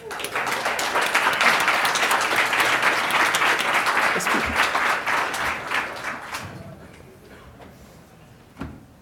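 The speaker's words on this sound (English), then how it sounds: "Please welcome them with a round of applause." An audience at a NewSpace 2017 STEM panel applauds loudly for several seconds, then the clapping thins and fades to a few scattered claps and a faint knock near the end.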